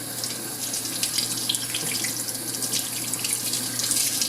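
Running water streams steadily over the outside of a Berkey water filter element, a continuous close splashing rush like a tap into a sink, with no talking.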